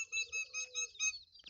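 Nias myna (jalak) calling in a fight with a chicken: a series of five or six loud, clear, high whistling calls in a rhythmic run, close by, with no talk.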